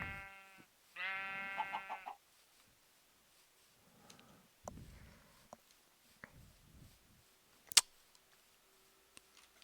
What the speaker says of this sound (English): Oh, sheep paradise out here.